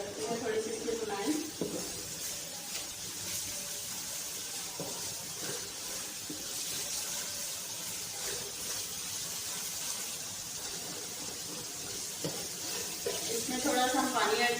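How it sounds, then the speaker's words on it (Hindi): Bitter gourd and onion sabzi frying in a pan on medium flame, a soft continuous sizzle with occasional stirring scrapes, faint and close, while someone talks over it at times. "तो मीडियम फ्लेम पे इसको करते हैं"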